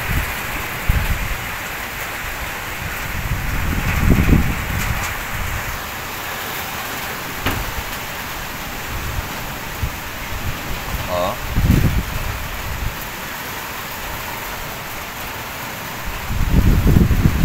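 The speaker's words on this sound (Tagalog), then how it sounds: "Malakas na yung hangin ngayon." Steady typhoon wind roars and rustles through coconut palms, rising into stronger gusts now and then, with a few brief knocks and distant voices underneath.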